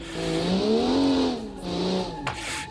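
A rear-wheel drive hot hatch oversteers through a corner during a hot hatch challenge, its engine droning loud and close while the tires squeal in a sustained tone, briefly easing and then picking up again.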